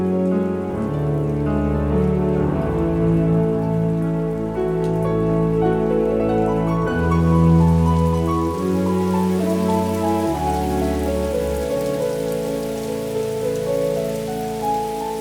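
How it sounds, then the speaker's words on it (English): A game-audio rain layer with mild rain pattering steadily beneath a sustained piano and harp music bed, the music's tones shifting partway through while the soft rain texture continues underneath. "We have the rain, now we need the music."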